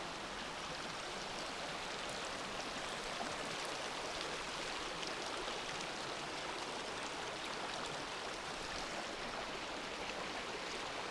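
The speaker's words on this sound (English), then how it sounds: "I get to go to sleep to the sounds of Fish Creek" Fish Creek flowing in a steady, even wash of rushing water, constant and unbroken, moderately quiet, with no voices.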